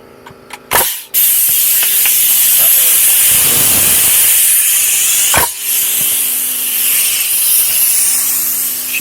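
Air hisses from a blown gasket on a Stanley pneumatic nail gun, a loud steady rushing hiss broken by a couple of sharp clacks, close up, with a voice briefly underneath.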